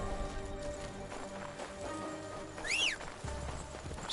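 Horse hooves clip-clopping in the video game Assassin's Creed Shadows, a steady run of hoofbeats under game music and ambience, with a brief whinny-like sweep near the end.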